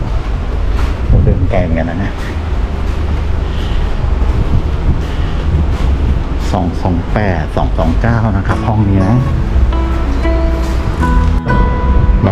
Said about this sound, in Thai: ลมเย็นมากเลย ลมดีจังเลย